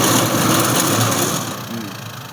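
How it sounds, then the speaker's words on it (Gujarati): A farm cutter machine runs during a sorghum (jowar) harvest, its engine making a loud, steady mechanical drone that eases slightly in level partway through, with no voices. "અવાજ આવ્યો આ ટાઈપનું કટર ચાલે"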